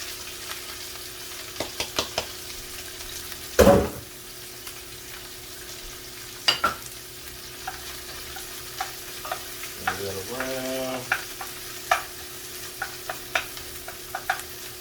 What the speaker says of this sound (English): I'm going to put peppers to brown. I'll go ahead and put my onion.